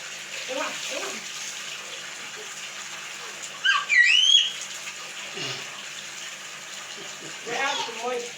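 Water splashes and gushes in bursts as curtains are washed in a tub at home, a louder surge rising midway, with people talking in between.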